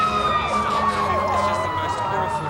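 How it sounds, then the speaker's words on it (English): A loud emergency siren wails with a warbling rise and fall during an evacuation near the United Nations, continuous and close with a faint voice beneath it. "This area right now, you can hear the siren."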